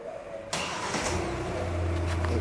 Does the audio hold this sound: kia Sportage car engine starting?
yes